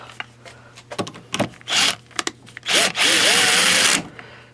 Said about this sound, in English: I've run it back and forth with the drill